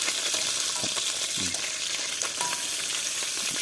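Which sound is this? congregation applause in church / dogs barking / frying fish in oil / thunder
frying fish in oil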